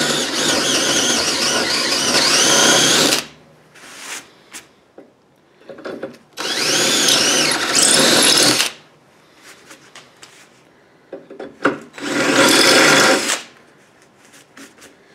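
A slightly dull power drill bit bores a hole in cast iron, a loud high squeal in three long bursts separated by quieter gaps with faint scraping.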